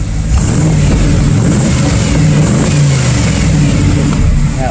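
1994 Chevrolet Caprice Classic with an LT4 V8 engine revving hard: a loud, sustained, roaring engine note held near full throttle throughout, recorded close and with no clear talking.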